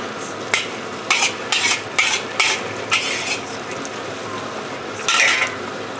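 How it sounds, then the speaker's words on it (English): Chili paste made without fresh chili sizzles while frying for char kway teow, with several sharp bursts of hiss as it is stirred in the pan amid a soft background sizzle. "just want to there as tint the sizzle as you fry this chili paste"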